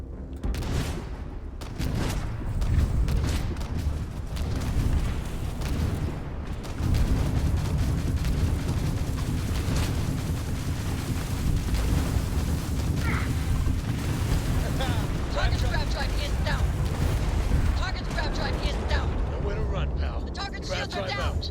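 Ship weapons firing and explosions during a space battle in Starfield, a dense, continuous roar of blasts and mechanical rattling at close range, with a voice talking over it.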